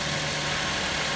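A 2008 Mazda 5 engine idles steadily with a smooth, even low hum and faint mechanical ticking, close and continuous with no talk over it.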